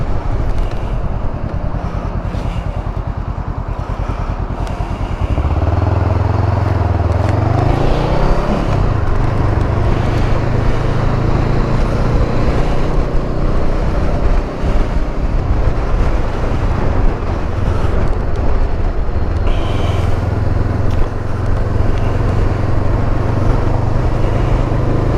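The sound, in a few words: Honda CMX 500 motorcycle riding, wind noise with visor up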